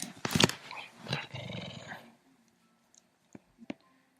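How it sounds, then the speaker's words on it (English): A dog growls and barks close by, with loud rough bursts in the first two seconds followed by quieter scattered sounds. "Dog wants to get in on the action again."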